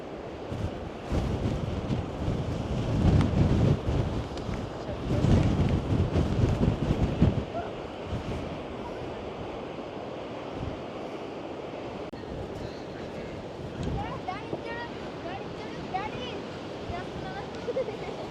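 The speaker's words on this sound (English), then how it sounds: "God, it's very windy up here as well." Strong gusts on an overcast clifftop along the Great Ocean Road near Melbourne batter the microphone with heavy low rumbling buffets for the first seven seconds, then settle into a steadier, softer windy roar.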